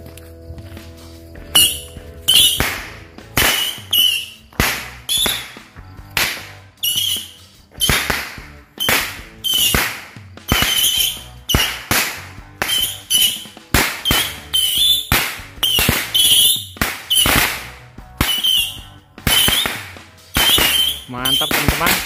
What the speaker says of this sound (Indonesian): selanjutnya kita nyalain mercon siu-siu